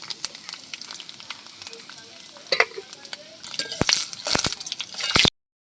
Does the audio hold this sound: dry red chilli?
yes